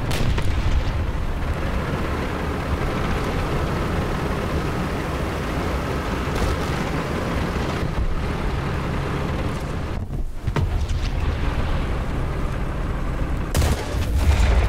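Tank cannon fire from a Strv M/42 DT in War Thunder while the tank moves, heavy booms over a constant rumbling engine and track drone, with a sharp blast near the end.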